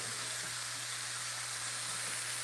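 Lamb chops sear in a pan on a home stove, giving a faint, steady sizzling hiss with a low hum underneath and no voices.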